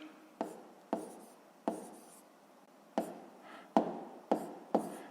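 A surname is handwritten in a short run of separate pen strokes on paper, close and distinct with uneven pauses between them, with no talking.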